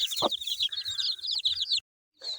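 A hen clucks in a quick run of short calls close by, with farmyard chirping around it, then a brief pause and another faint call, in a village farmyard in the morning.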